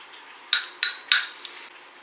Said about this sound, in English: You just want to get that stirred in there really good with everything else.